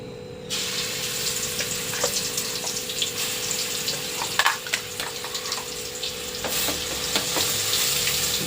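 Ground paste frying in hot oil in a steel pan for a fish curry, with a loud, continuous crackling sizzle close up, occasional spatters and a spoon scraping, and no talking.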